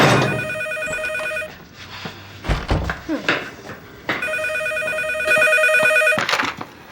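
A telephone rings in two long electronic bursts with a pause between them, loud and near, with a brief thud and a short voice in the gap.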